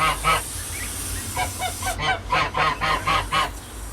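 A run of loud, nasal honks from a goose near newly hatched goslings, repeated in quick uneven bursts close by, with a steady low hum underneath.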